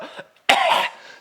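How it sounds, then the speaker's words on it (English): A speaker voices a character's cough as a mannerism, giving one short throat-clearing catch and then a single harsh, close, fairly loud cough. "Coughs a lot."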